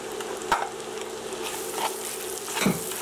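Minced white onion sautéing in a pot for seafood chowder, a steady close sizzle with a few scraping stirs spaced about a second apart, no voices.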